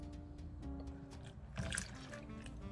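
A milk and vanilla extract mixture is poured into a well of dry ingredients, making a faint, brief liquid trickle and splash after a quiet start.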